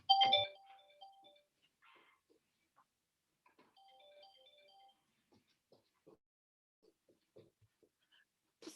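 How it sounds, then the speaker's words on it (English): A phone ringtone plays indoors at home in scattered short melodic bursts, quiet and somewhat distant, with gaps of near silence between the tones. "my phone is ringing"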